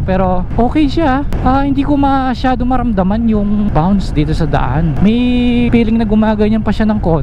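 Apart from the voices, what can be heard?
None of the usual background noises is heard.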